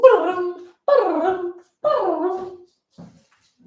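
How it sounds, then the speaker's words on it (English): A dog whimpers in three drawn-out, falling whines close to the listener, followed by a fainter short whine, with quiet gaps between them. "my dog"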